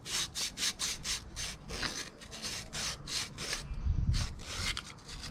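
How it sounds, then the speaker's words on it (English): Sandpaper scrubs corrosion off the metal hose neck of a radiator housing from a 2004 Nissan Sentra, a steady series of close, rhythmic rasping strokes, about three per second, with a brief duller knock partway through and no voices. "Okay, so now I'm gonna be sandpapering this neck where the hose goes on"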